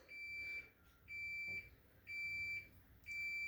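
A Samsung refrigerator in test mode gives four long, evenly spaced electronic beeps, steady and fairly quiet, with short silences between them.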